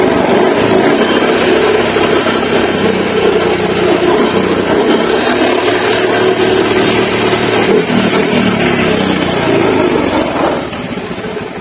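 A Honda Beat ESP scooter with a charging-system drop is revved near by, its small engine buzzing loudly and steadily, rising and falling in pitch before easing off near the end.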